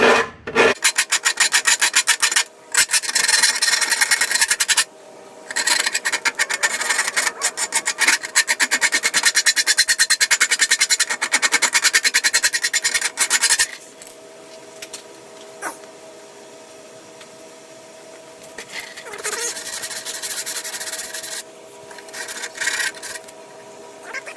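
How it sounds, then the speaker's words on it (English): A small hand file rasps away burrs on a freshly drilled hole in bare metal on a Nissan Frontier hitch install, in loud rapid strokes that run in long bursts, pause, then resume more quietly. "Get yourself a little file. Get this up a little bit. And just take the, take the burrs off."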